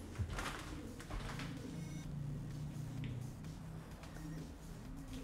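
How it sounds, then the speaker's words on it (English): Pigeon cooing inside an abandoned 1911 grand theatre, soft low coos repeating through a hollow, echoing room with faint rustling and background hum. "Yeah, must be a pigeon."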